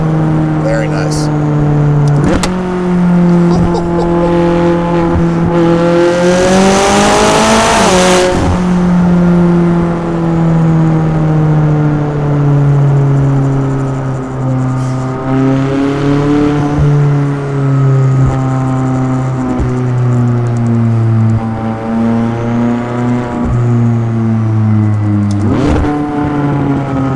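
A McLaren 600LT engine drones loudly and continuously while rallying, with pitch swells from revving and downshifts and occasional pops, under a voice talking.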